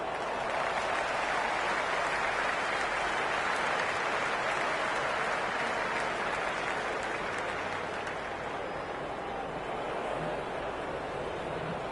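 Crowd in the cricket video game Cricket 26 cheers and applauds in a dense, steady roar that holds for the whole stretch with no gaps, a broad wash of stadium noise.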